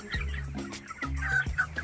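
Poultry birds at a farm feeding squabble over grain, giving repeated loud gobbling and clucking calls in quick bursts close by, with no talk.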